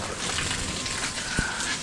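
Water from a high-pressure hose patters and drips onto a roof still missing its flashing, a steady hissing spray with a sharper splash near the end, faint and close.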